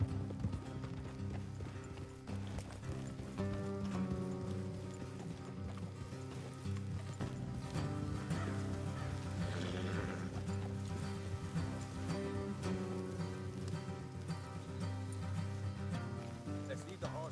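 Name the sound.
horses galloping, hooves clip-clopping in Red Dead Redemption 2 video game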